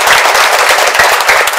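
Loud, dense applause and clapping from a studio audience during a Gujarati film team's interview show, a steady wash of claps right up close with no talking.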